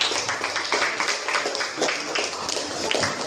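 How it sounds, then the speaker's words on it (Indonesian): A room full of people claps steadily after a group presentation in class, a dense patter of many hands continuing evenly for a few seconds. "Oke, kita beri tepuk tangan untuk kelompok 3."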